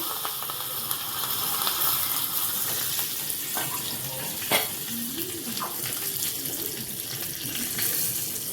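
Hot ghee tempering of cumin, mustard seeds, asafoetida and curry leaves for a yoghurt kadhi, heard as a continuous hissing sizzle with scattered crackles and pops, fairly close and steady.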